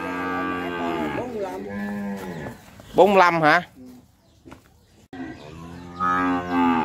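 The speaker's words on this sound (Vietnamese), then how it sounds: "Bò bự ghê." Cattle at a livestock sale in Ba Tri, several loud drawn-out moos in succession, close by, with people talking between and over the calls.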